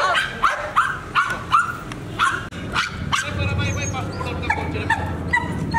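A dog barks repeatedly during protection training, sharp close barks in a quick uneven rhythm with some yips, while people talk and shout commands over it.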